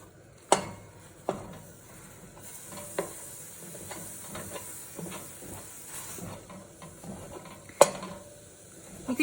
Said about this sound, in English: we're gonna add the sausage into the skillet